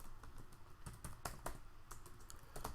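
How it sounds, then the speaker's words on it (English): Keys clack on a computer keyboard in quick, uneven bursts of taps, close and fairly quiet, with no voice over them. "We type in the name of our array."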